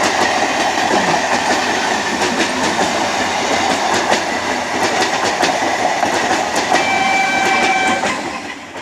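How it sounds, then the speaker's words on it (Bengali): An up train on the Naihati–Halisahar line rolls past close by, a loud continuous rumble with rhythmic clickety-clack of wheels over rail joints and a faint brief squeal, fading slightly at the end. "আপ ট্রেনটি যেতে ঠিক পাশ দিয়ে আর কি ডাউন ট্রেনও আসছে দেখছি।"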